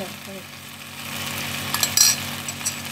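Potatoes with garlic stir-fried in a pan, a steady close sizzle with scraping stirs and a sharper burst of crackle near the end.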